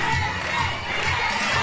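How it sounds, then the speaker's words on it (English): A wrestling crowd at a Rumble event cheers and shouts continuously, a dense, loud roar of many voices filling the arena without pause. "This crowd is ready for it."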